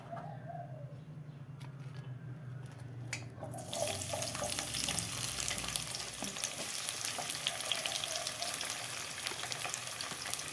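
Onions for pav bhaji frying in oil, a quiet start with faint clinks that jumps into a dense, steady, close sizzling hiss after a few seconds and holds to the end, no talking.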